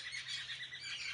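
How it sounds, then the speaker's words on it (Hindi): Small birds chirp in a home garden, a thin, continuous twittering of several birds at moderate distance, heard alone. "बहुत चिड़िया है।"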